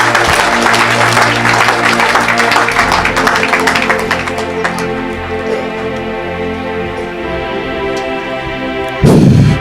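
Loud, sustained applause from a church congregation fills the room, steady cheering and clapping that thins out toward the end before a brief burst returns.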